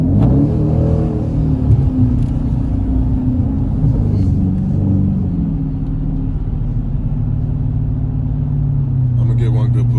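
Dodge Challenger with a K&N cold air intake accelerating on a snowy road, heard from inside as a loud, steady engine rumble and drone that rises slightly and holds through the pull.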